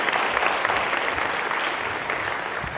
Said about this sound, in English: I would just like one big round of applause for my hard work